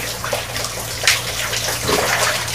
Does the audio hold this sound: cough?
no